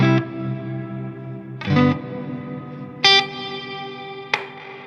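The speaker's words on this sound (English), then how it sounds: "the reverb just waits a few milliseconds before it goes and before it kicks in" Electric guitar through a reverb with pre-delay: four separate strums, each a loud, near attack followed by a short gap and then a lingering reverberant tail, played alone.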